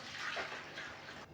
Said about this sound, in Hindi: जी मैंने एक बाउल ले लिया है और इसमें मैं खुला पानी डाल दूंगा